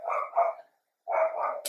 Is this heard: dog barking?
yes